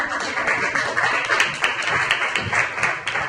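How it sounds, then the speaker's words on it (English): A crowd claps steadily throughout, a dense, even patter of applause at moderate distance with no voices standing out. "That deserves a round of applause."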